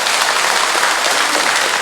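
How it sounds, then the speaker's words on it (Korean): A church congregation applauds during a Catholic Sunday Mass, dense and even clapping from many hands that fills the space steadily for about two seconds, loud and close with no voices over it. "우리 감사의 박수를 보내서 갑시다."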